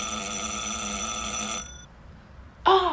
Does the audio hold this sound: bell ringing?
yes